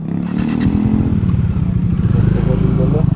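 A motorcycle being ridden into a two-wheeler parking spot at an eco park in Cherrapunji, Meghalaya, its engine rumbling steadily and close at hand, with clattering and scraping as it settles, and people talking throughout.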